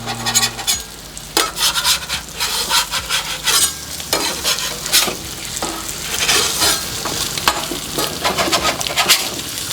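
Bacon and eggs sizzle steadily on a Halo Getaway outdoor griddle, with a dense crackling hiss and repeated scraping and rubbing strokes of a spatula across the hot surface.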